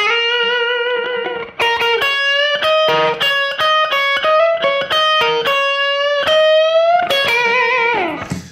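An electric guitar plays a slow blues lick, with sustained bent notes and quick picked runs, loud and close with no talking.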